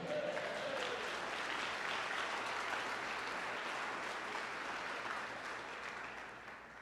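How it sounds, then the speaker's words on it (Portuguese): A church congregation applauding during a Portuguese-language sermon, a steady, fairly quiet wash of many hands clapping that slowly fades toward the end. "E você diz amém e aplauda ao Senhor."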